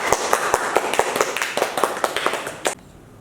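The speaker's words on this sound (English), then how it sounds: "Please give applause for Ms. Annisa." An audience claps for a speaker being welcomed at a seminar on young entrepreneurship. The clapping is close and lively with distinct individual claps, then stops abruptly near the end, leaving quiet room tone.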